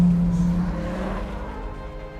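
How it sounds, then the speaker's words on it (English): Sports car, a Mustang GT or Viper, drifting through a track corner in first gear, its engine droning loudly as the tires squeal in a sustained slide that gradually fades. "So I usually drift this corner here in 2nd or 3rd gear, depending on the car."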